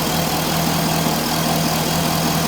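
A 2005 Corvette engine idling steadily after a lean-code fix, a loud continuous low hum with even vibration and no talking over it.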